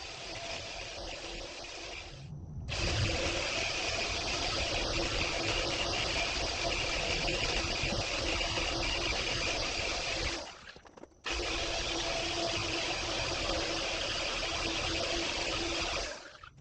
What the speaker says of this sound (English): I'm going to use the electric buffer with a soft cloth head and quickly buff out the ceramic coating